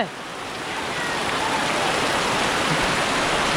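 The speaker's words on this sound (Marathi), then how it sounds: "पावसाने जोर वाढवलाय आणि जबरदस्त पाऊस आला" Heavy monsoon-like rain pours steadily in Konkan as a dense, continuous hiss that swells slightly at the start and then holds loud and even throughout.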